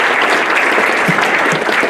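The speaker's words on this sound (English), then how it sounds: "Give me a round of applause for the process team." A banquet audience applauds a process team, a dense, steady wash of many hands clapping at close range, loud and unbroken for the whole two seconds.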